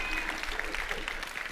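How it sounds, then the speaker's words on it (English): A live audience claps steadily during a Nintendo Switch game announcement, a continuous wash of applause from a large crowd at a fairly even level for the whole moment. "Clap."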